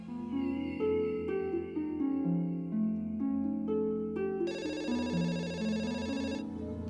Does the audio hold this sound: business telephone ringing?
yes